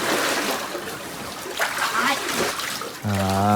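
Water splashes and sloshes in a swimming pool with people talking over it, and a low humming motor starts up near the end.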